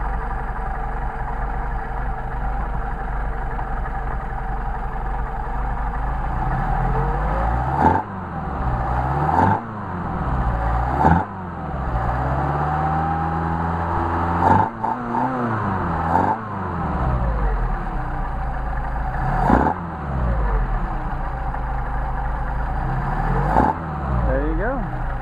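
A Mercedes 190SL engine runs on test carburetors, a loud steady idle near at hand with repeated throttle blips that rise and fall in pitch, several revs spaced across the run.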